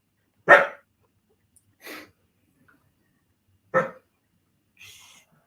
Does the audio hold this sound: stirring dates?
no